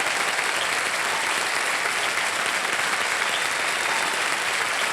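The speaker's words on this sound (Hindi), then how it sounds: "और ताली बजती रहे क्योंकि इनके नाम चेक आने वाला है" A studio audience on the Indian TV quiz show KBC bursts into dense, sustained applause after a winning answer, a loud, even roar of many clapping hands with no talk over it.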